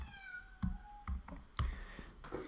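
A person imitating a cat's meow, giving a few drawn-out, tonal mewing calls with short clicks and thumps in between, close and fairly quiet, without talk.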